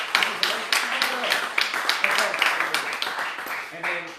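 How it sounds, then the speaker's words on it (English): An audience claps in a rapid, steady patter of sharp hand strikes throughout, with people talking over the applause. "Clap for Christian right here."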